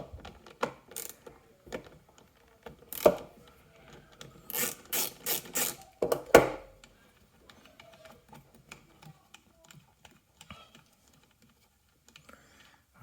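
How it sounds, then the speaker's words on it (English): A ratchet removes an 11 millimeter bolt holding a copper cable on a Nexcell Prius lithium hybrid battery, heard as scattered clicking bursts and a quick run of ratcheting clicks, fairly quiet in a still room. "now you have to take out the bolt over here because we want to take out this copper cable"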